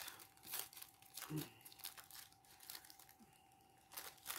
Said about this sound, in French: Et dans ce cas-là, je vais déchirer.